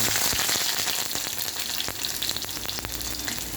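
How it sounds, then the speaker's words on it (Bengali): Loud, continuous sizzling of onions frying in hot mustard oil in a wok, close up, with crackles and pops throughout and no voices. "সর্ষের তেল কড়াই দিয়েছি, গরম হয়ে গেছে। এবার পেঁয়াজগুলো দিই।"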